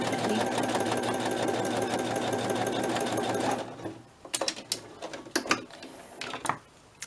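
A sewing machine stitches the spine of a soft-cover journal in a steady, loud mechanical whir for several seconds, then stops, followed by a few sharp handling clicks and knocks.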